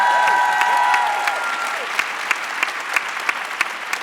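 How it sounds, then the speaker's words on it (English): A conference audience at a UN Women event applauds steadily, a dense wash of clapping that thins toward scattered, distinct claps near the end. "A louder round of applause, please."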